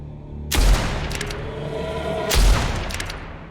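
Two loud, booming gunshots from the Blood West video game, about two seconds apart, each a sharp blast followed by a rumbling echo tail, with no talk.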